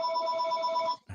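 A telephone rings in a brief steady electronic trill, loud and close, cutting off abruptly with no talk over it.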